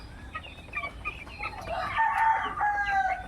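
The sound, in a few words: 12-day-old broiler chickens in a pen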